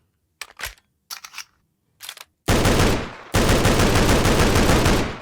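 Rapid-fire gun in the Scorched Guns 2 Minecraft mod: a few short staccato bursts, then long loud sustained automatic fire with a brief gap, close and dense, no talking.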